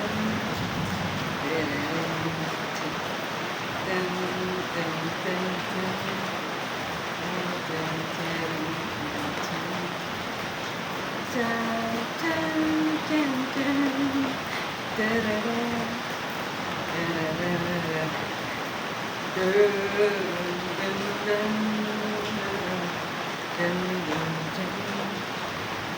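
Steady rain falling outdoors where children play, a constant hiss of drops beneath lively voices and chatter that come and go throughout.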